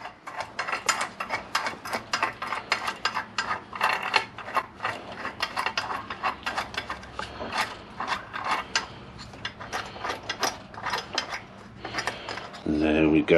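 Ratchet clicking rapidly and repeatedly while tightening bolts on a Mini R50/R53 rear trailing arm, close and crisp in uneven bursts with short pauses, ending in a brief metallic clunk.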